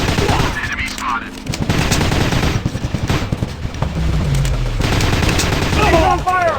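Rapid bursts of automatic gunfire and shots fill a commando-style shooting video game, loud and near, with brief pauses between volleys while game voices shout over the action.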